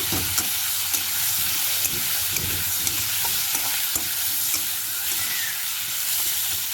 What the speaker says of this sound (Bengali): তো হলুদটা দিয়ে একটু নাড়াচাড়া করে নেবো ভালো করে